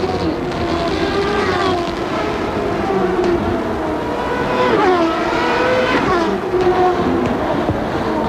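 A CART Indy race car accelerates up to speed along a long curving straightaway at the 1993 Toronto street race, its engine loud and steady from onboard, with pitch rising through gear changes.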